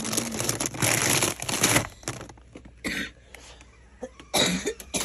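A fit of rough, raspy coughing up close, in several bursts with short quieter gaps between them.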